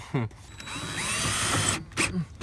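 A power drill drives screws into a rear door speaker on a 2006 Chevy Silverado crew cab, one steady whirring burst of about a second, close up, with brief clicks before and after.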